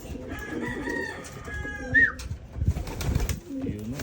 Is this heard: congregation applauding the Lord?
no